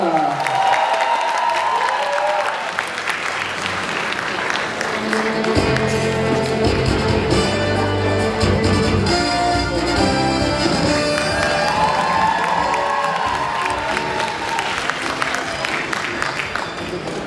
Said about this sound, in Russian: И под ваши самые бурные, насколько вы только способны, аплодисменты, позвольте пригласить на эту сцену ректора